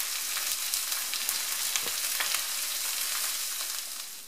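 Endives sizzle on a hot griddle with a steady, dense frying hiss, close and even, with a few sharper pops scattered through and a slight fade at the end.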